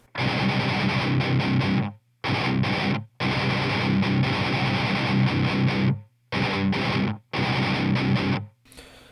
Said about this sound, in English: the breakdown comes in and sounds like this.